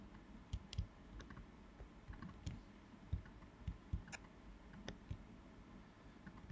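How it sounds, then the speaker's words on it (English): Faint mouse clicks on a Mac, single taps and quick pairs scattered irregularly over a low background hiss, with no voices. "select the clip, right click on the clip or control click"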